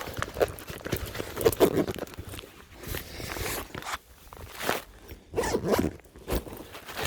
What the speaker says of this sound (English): Zip the bag up.